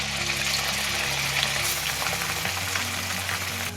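Chopped onion, ginger-garlic-onion paste and whole cumin fry in a pan for chicken ghugni, a loud continuous sizzle with faint scraping and hum beneath, heard up close and alone.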